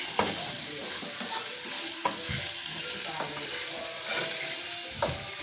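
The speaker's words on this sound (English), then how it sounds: "Let me turn my skillet up just a little bit, because I want these to kind of sear kind of good" Vegetables sear in a hot skillet with a steady, close sizzle, broken by a few sharp scrapes and clacks of stirring.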